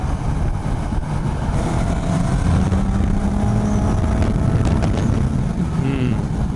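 A Suzuki GSX-S750 inline-four motorcycle engine drones loud and close while riding on an expressway, a continuous rough-edged roar with rising and falling pitch as the throttle changes.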